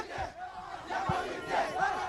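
A football crowd cheers and chants at a Gambia match, a loud, dense roar with rising swells of voices filling the whole moment.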